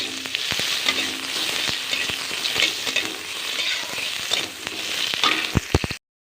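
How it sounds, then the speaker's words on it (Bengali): Chopped onion frying in oil for a kulekhara greens dish, a steady close sizzle with repeated spatula scrapes and taps against the pan, and no talk over it. "পেঁয়াজ এবারে লাল লাল করে ভাজা হয়ে গেছে আমার"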